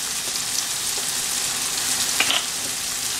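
Kadai curry masala sautéing in a pan for a vegetable curry, a loud continuous sizzle with occasional stirring scrapes, close up and without speech.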